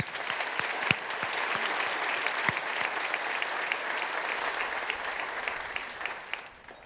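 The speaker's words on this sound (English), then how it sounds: "Let's give them another round of applause." A crowd applauds at a school commencement ceremony, sustained dense clapping with a few sharp, nearer claps standing out, slowly fading toward the end.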